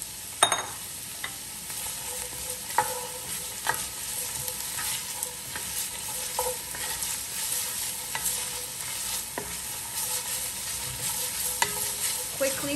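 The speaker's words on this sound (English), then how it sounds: "now we're gonna put in fennel" Two big bulbs of fennel sauteing in hot oil for cioppino, a steady close sizzle and crackle with occasional stirring scrapes, no talking.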